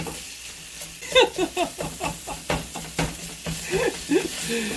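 Chipotle sausage fries in a pan, sticking to the bottom, with a low sizzle broken by repeated scraping and stirring strokes in an uneven rhythm, close and moderately loud.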